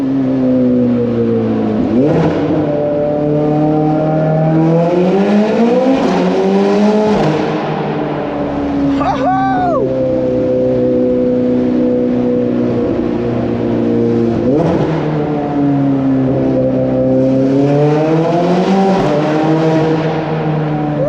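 A supercar drives through a tunnel near Monaco, its loud engine droning and echoing, rising in several strong revs through the gears with a brief higher whine midway, continuous and close for about twenty seconds with no talking.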